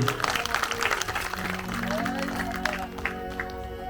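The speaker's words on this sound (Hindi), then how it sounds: "जोरदार तालियां बजाइए।" Audience clapping at a Bhagavat Path religious discourse gathering, a moderate spatter of hands mixed with a sustained musical drone and crowd murmur, fairly even throughout.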